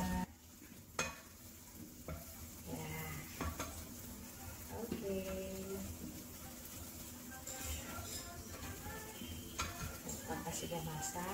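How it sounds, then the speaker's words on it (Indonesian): Eggs scrambled with a utensil in a hot frying pan while making fried rice, with scraping stirs and a steady background sizzle, clinks of the pan, and voices talking intermittently nearby. "Telurnya diorak-arik dulu."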